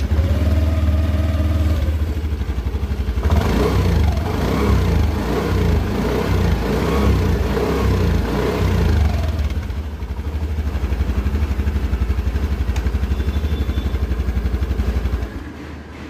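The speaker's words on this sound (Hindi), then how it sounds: "Now let's listen to the exhaust sound of the scooter." A 2023 Honda Dio 125 H-Smart Repsol Edition scooter runs close by with its exhaust idling steadily, then is blipped up through a few throttle rises and falls before settling back to a low idle.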